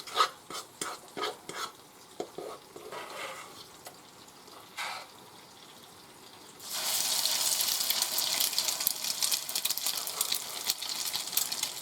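Salmon patty mixture being mixed in a bowl by hand, with a series of short wet squishing strokes, then a steady rush of running water from a tap close by.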